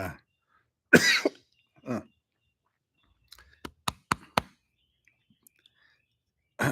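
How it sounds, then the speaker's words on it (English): A man's cough close to the microphone during a live recording: a couple of sharp coughs and a throat clear, followed by a series of quick clicks and taps. "I don't want to cough right into the microphone"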